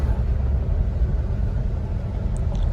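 A Ford Torino with a 351C V8 and Sniper EFI fuel injection drives along with a steady, smooth low engine rumble and road noise, close and continuous with no speech.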